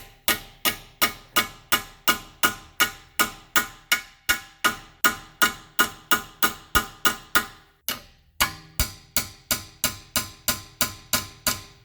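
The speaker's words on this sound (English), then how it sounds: "we're gonna hammer that guy back in there and continue on" A hammer strikes a pry bar back into place on a 2006 Subaru Forester during lower control arm and ball joint work. The sharp metallic blows land about twice a second, steady and close, with a brief pause near the two-thirds mark.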